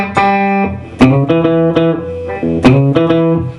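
A bluesy electric guitar lick, played alone as sharp plucked notes and quick double-stops in a tight, punchy rhythm, close and loud.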